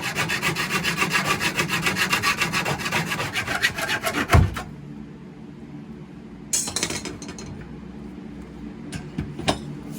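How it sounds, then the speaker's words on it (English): Screws being cut off inside a motorhome during a residential fridge conversion, giving a steady close rasping, grinding cut that runs for several seconds, stops abruptly, then returns in a few short bursts. "So we're just going to take and just cut the screws off."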